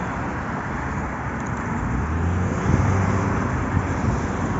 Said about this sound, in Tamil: கார்லாம் வேகமாக போயிட்டுருக்கு.